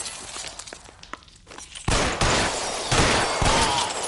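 Gunfire in the video game L.A. Noire: scattered faint shots and thuds at first, then a sudden burst of loud, dense shooting that continues in heavy cracking volleys, close and alone without speech.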